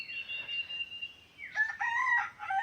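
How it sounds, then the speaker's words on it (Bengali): A rooster crows in the morning, one long drawn-out call followed by a broken, wavering ending, fairly close and clear over a quiet background. "মোরগের আওয়াজ,"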